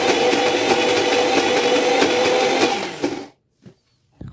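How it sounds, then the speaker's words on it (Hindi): A loud, steady whirring grind of a kitchen mixer grinder grinding lentils runs for about three seconds, then cuts off, followed by a couple of faint clicks. "मिक्सी को ना बिल्कुल कंटिन्यू नहीं चलाना है मतलब इसको रोक रोक के पीसना है"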